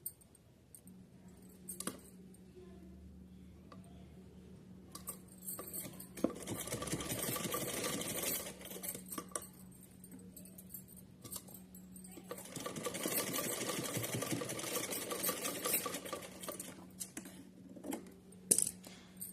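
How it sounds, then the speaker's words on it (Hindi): A sewing machine runs in two fairly quiet bursts, each several seconds long, stitching a diagonal seam on a folded cloth strip for a small Kanha dress, with faint handling sounds in the pauses. "इस तरीके से यहाँ इस पर तिरछी सिलाई लगानी है। तो चलिए सिलते हैं।"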